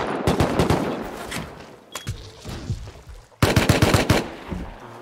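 Automated turrets firing in the video game Rust during a raid, with bursts of rapid loud gunfire, a gap with scattered shots and thuds, then another dense rattling burst.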